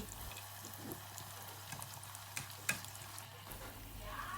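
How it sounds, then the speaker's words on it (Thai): Wontons filled with sausage drop into hot oil and puff up, giving a faint steady sizzle and crackle with a few small pops, quiet and close, no talking. "น้ำมันร้อนๆใส่เกี๊ยวลงไปนะคะ ก็จะพองฟูขึ้นมาทันทีเลย"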